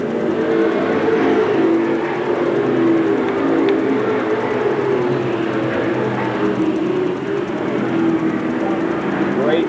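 Pro Stock race cars circling Seekonk Speedway in a 1996 heat race, their engines making a steady, dense roar across the track while a voice talks over it.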